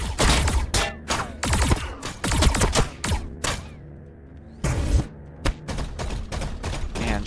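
Heavy bursts of gunfire in Warhammer 40000 Battlesector during a Necron versus Tau tournament match, loud broadband volleys in rapid repeated clusters with one brief quieter gap midway.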